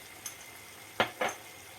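Spoon stirring salt, black pepper and red pepper into Konya-style mıhlama in a pan, with two quick, faint scrapes close together against a quiet background.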